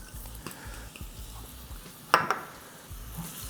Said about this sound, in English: When we saute the aromatics, we build in flavor